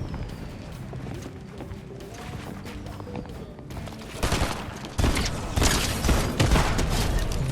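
An auto shotgun in Fortnite fires in rapid, dense bursts amid the clatter and booms of a busy gunfight, the shots growing louder and more intense toward the end.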